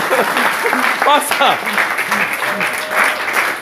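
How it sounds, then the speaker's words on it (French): Applause from a crowd fills the clip, steady and close, with voices calling out over the clapping. "applaudissez pour elle"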